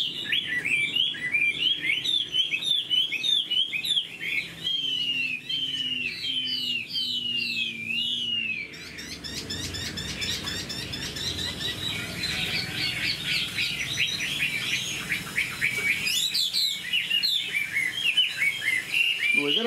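Tame caged Chinese hwamei singing a loud, continuous varied song of rich whistled phrases and rapid trills, close by with no talk over it.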